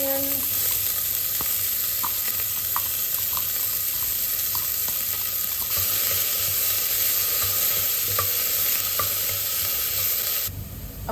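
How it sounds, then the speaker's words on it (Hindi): Rajma masala sizzles and fries steadily in a pan with bay leaf and Kashmiri red chilli. The loud, continuous hiss is close, with occasional stirring clicks and no voices. "अब दोनों को अच्छे से मिक्स कीजिए and let it saute for some time जब तक मसाले की खुशबू ना आए"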